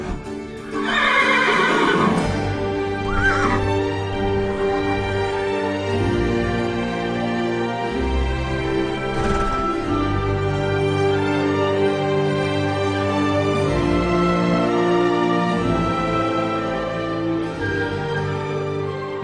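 Horses at a riding club in Gaza neigh and whinny loudly and repeatedly, with clip-clopping hooves and steady stable noise running underneath throughout.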